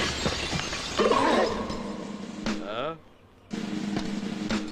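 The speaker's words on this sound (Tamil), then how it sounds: "யாரா கண்ணாடி உடைச்சது" A glass window shatters after a thrown stone hits it, a sharp bright crash with tinkling shards partway through a comedy scene, with a short silence and voices around it.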